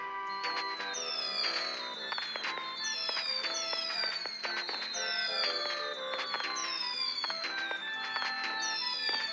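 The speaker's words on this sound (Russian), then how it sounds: "Смотрите, салюты." Fireworks in the cat game Bubbu: a continuous, dense crackle of bright electronic bursts and whistling sparkles repeating in a steady looping pattern, moderately loud with no talking.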